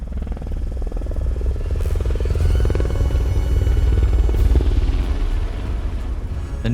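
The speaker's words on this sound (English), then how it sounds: "The news helicopter soared high above the chaos." News helicopter flying overhead as a sound effect in a horror audio drama, a steady loud rotor rumble and thrum that swells slightly midway and holds throughout.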